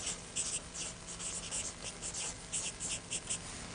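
A pen writes a word onto the umbrella in a cartoon drawing, making quiet, quick scratchy strokes in an irregular rhythm, close and faint.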